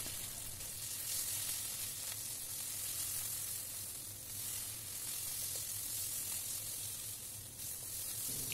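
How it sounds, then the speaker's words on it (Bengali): Ground spice paste and a bay leaf fry in hot oil, making a continuous close sizzle and crackle with faint stirring and no voices. "তেজপাতাটা একটু ভাজা হয়ে এলে তার মধ্যে আমি যে বাটা মশলা করেছিলাম সেটা দিয়ে দিলাম"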